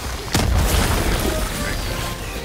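A grenade detonates in Helldivers II with a single deep boom, followed by a low rumbling tail and background game noise.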